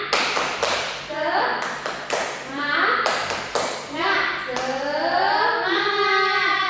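A class of students with intellectual disabilities does a rhythmic spirit clap in a twelfth-grade lesson, sharp bursts of group clapping in a patterned beat, alternating with voices chanting along.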